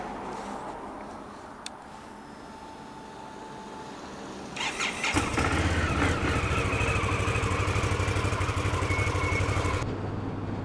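A 2015 Indian Scout motorcycle engine rises from a quiet idle into a loud, steady roar as the ride gets under way, holding a sustained drone before cutting off abruptly near the end.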